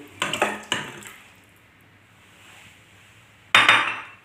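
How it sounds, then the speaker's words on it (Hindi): Chicken pieces drop into water in a cooking pot, making several close clinks and knocks against the metal, then a quiet pause and one more louder clatter. "तो ये हम चिकन जो है ना, इस पानी में डाल देंगे,"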